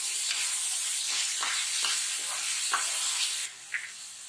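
Tomatoes with salt frying in a pan for bread upma make a continuous close hiss and sizzle, with soft scrapes of stirring scattered through, before the sizzle drops off sharply near the end and a small clink follows.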